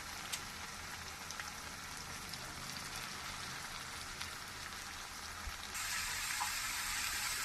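Cabbage frying in a pan gives a continuous close hiss and crackle of hot oil that swells a little louder toward the end, with no talking.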